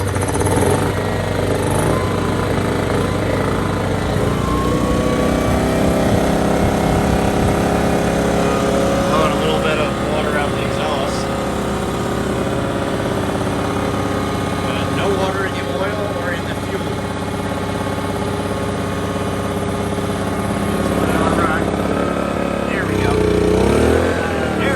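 Engine of a flood-damaged machine, its rear differential once full of water, running steadily after being revived, a continuous rumbling drone throughout with a person talking over it.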